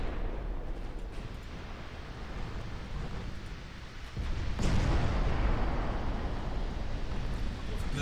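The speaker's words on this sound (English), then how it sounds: "Ammo detonation." Naval gunfire and ammunition detonation explosions in the warship game Ultimate Admiral Dreadnoughts: a dense, continuous roar of booms and blasts that swells louder about halfway through, with no voices.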